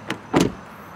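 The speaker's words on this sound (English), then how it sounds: "Now, this door is unlocked." A 2025 Toyota Camry's door locks actuating, two quick mechanical clunks close together, the second louder and fuller, then quiet.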